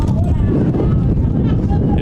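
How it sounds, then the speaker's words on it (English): Wind gusts rumbling into the microphone at an outdoor youth soccer match in Herriman, a steady low buffeting roar that runs the whole time. "It is a windy day here in Herriman."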